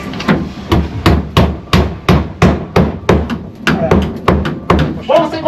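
A hammer drives a nail into a board with a dozen loud, evenly spaced strikes about half a second apart, close by, with some talk alongside.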